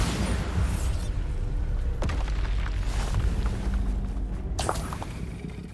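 A Bombarda spell goes off in the Hogwarts Legacy video game: a sharp blast near the two-second mark and another burst near the end, set in dense, rumbling game noise with no talk.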